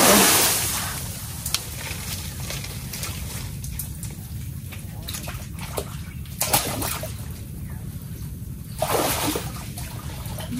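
Water flows steadily out at a fishpond dike where soil has been piled, a continuous broadband rush with a few brief splashy surges, heard close and alone.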